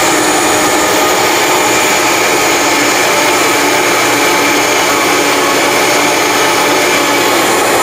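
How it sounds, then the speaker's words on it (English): Grain flakes being ground into flour in an open blender with no lid on, a loud steady high-pitched whir that runs evenly from start to finish with no talking over it. "I'm going to dump it in my blender, and I'm just going to flip it on. I don't even have to put the lid on it."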